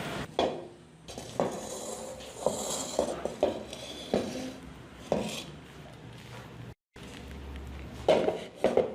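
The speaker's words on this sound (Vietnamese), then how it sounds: "mình nấu cho nó tan chảy ra rồi thì mình lắc cái chảo thôi" Metal pan of melting sugar being shaken and tapped on a stove while making caramel for colour, clattering knocks and scrapes in irregular bursts, close and fairly loud, with a brief silent gap.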